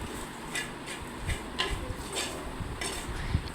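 A spoon scrapes and clinks in a pan as coriander, fish masala and turmeric powder are stirred for a Kerala fish curry, with soft irregular taps spaced across the clip at a quiet, close level.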